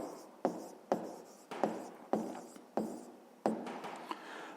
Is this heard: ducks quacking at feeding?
no